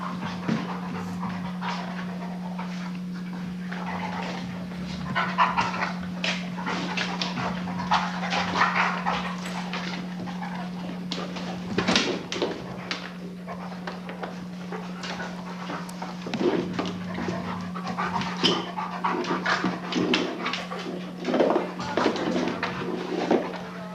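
Playful puppies at social play, panting steadily with occasional whimpers, scuffles and paw taps, close and moderately loud throughout with no talk.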